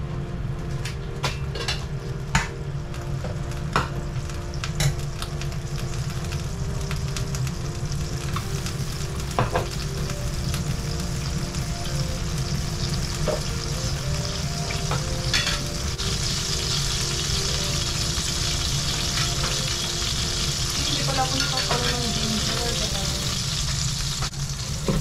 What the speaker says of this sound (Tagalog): So, dito na lang tayo mag-gigisa.